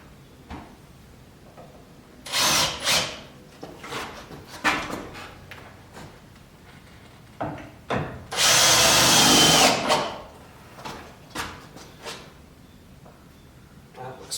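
A power drill drives screws into an exterior door frame in short bursts, including one longer whirring run, with a person talking between the drilling.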